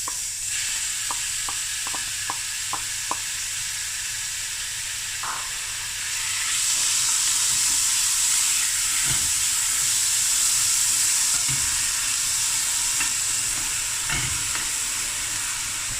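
Two finely chopped onions hit hot oil in a pan for a chicken and baked beans curry, producing a steady sizzle. A few quick clicks of stirring come near the start, with the frying growing louder partway through.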